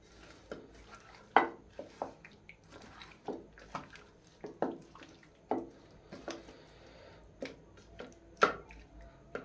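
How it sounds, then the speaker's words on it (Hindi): Chicken marinade with salt and black pepper being mixed in a bowl for KFC-style drumsticks, soft wet squishing and light clinks of a utensil repeating in an irregular rhythm, close and fairly quiet. "और इसको अच्छी तरह से अभी मिक्स कर लेंगे।"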